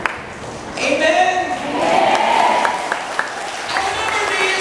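Congregation applauding at an El Shaddai worship gathering, a close, fairly loud wash of clapping that swells and eases while a voice rings over it, with a few sharp claps standing out.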